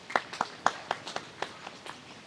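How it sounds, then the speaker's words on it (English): A small audience welcomes a panelist at a mindful mobility speaker series with sparse applause, about a dozen distinct claps in an uneven rhythm that thin out and fade within a couple of seconds. "Please welcome Haley with a round of applause"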